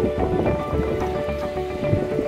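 Steady rain patters on surfaces nearby, a continuous dense hiss with scattered drips throughout.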